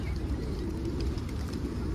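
Wild pigeons coo softly through a steady, dense outdoor noise, the calls faint and repeated over a short stretch with no clear voices.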